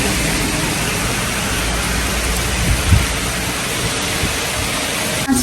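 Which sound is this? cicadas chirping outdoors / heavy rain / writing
heavy rain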